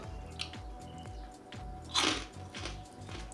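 Crisp crunches and chewing from a bite of homemade sponge candy, a few close, quiet cracks with one sharper snap near the middle over faint background hum; no talking.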